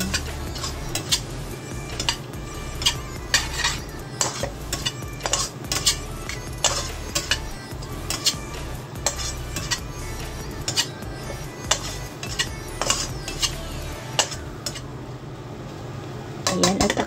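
A utensil stirs and scrapes egg with bitter gourd in a pan, producing repeated metallic clinks and taps in an uneven rhythm over a low cooking hiss, close and clear.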